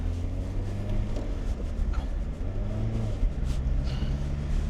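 Small Rover Metro hatchback pulling away from rest, its engine a steady low rumble with mild revving as it gets moving, close and continuous throughout.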